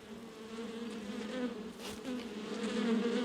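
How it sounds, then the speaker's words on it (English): A swarm of bees buzzes close and steady in the African bush, a dense droning hum that swells slightly louder toward the end, with no voices. "The cub disturbs a swarm of bees."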